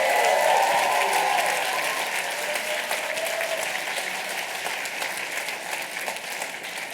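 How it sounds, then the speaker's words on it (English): Warm applause from an audience at a medical and dental school class day honors graduating doctors, steady dense clapping that gradually softens over seven seconds, with faint crowd murmur. "Please give a warm round of applause to the Canon graduates"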